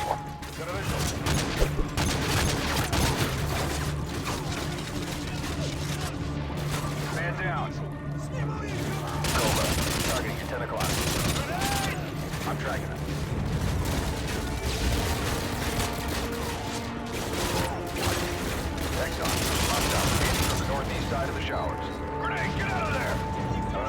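Gunfire in the video game Call of Duty: Modern Warfare 2, with dense bursts of shots and crashes running throughout over a constant game soundscape, while a voice talks intermittently.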